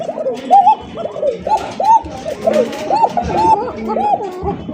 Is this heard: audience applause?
no